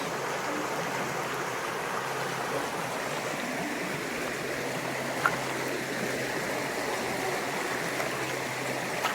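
A mountain stream in North Georgia flows steadily over rocks, producing an even, continuous rushing and babbling close by, with one brief faint click partway through and no voices.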